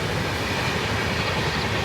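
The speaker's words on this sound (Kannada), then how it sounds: "ಈಗ ಜಸ್ಟ್ ಟ್ರೈನ್ ಪಾಸ್ ಆಯ್ತು." A passing train rumbles steadily along a railway track beside farm fields, a dense close roar of rolling wagons filling the whole short stretch with no voices.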